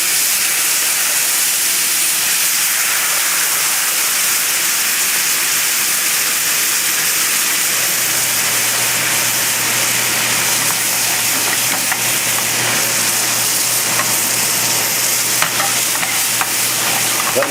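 White wine poured into a hot pan with fish, sizzling and reducing in a loud, steady hiss and crackle that runs the whole time, with a low hum joining partway through.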